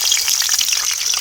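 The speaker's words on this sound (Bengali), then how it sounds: "কড়াইতে তেল দিয়ে নিলাম" Hot oil sizzling steadily in a kadai, a bright continuous crackle and hiss, close and fairly loud, alone with no voices.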